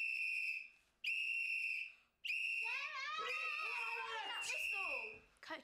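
A coach's whistle blows three loud, sharp blasts, the last one long and sustained, as shrieking and yelling voices rise underneath.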